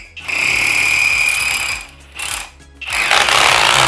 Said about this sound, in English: I'm just gonna start drilling this now